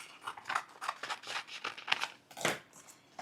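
Scissors snipping through centerpiece material sized to fit inside a vase, a close run of quick, crisp cuts with short pauses between strokes.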